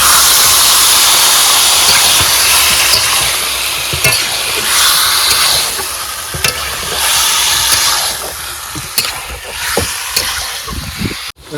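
Meat sizzles and hisses loudly in a pan of spiced masala with turmeric while being stirred, steady frying punctuated by scraping and clacking strokes of the spoon, with no talking.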